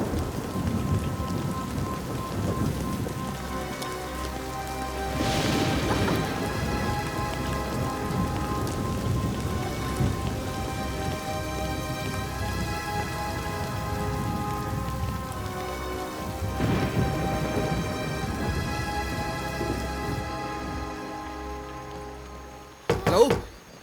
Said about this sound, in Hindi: जल्दी चलो, बारिश बहुत तेज हो रही है।